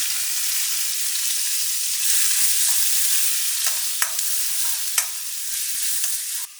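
Garlic fries in oil with mustard seeds, onion and tomato for a stuffed brinjal dish, giving a bright, even sizzle with a few sharp spatula clicks and stirs near the pan.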